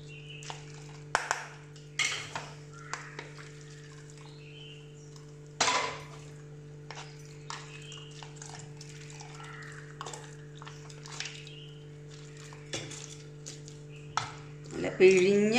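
Moringa drumstick soup being strained through a fine sieve, with metal utensils clinking and tapping in scattered bursts over a steady low kitchen hum.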